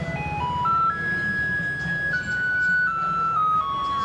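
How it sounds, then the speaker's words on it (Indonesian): A Taiwanese garbage truck plays its singing melody in clear electronic tones, a steady stepping tune heard alone over low street rumble. "ada singing garbage truck atau yang disebut dengan truk sampah bernyanyi"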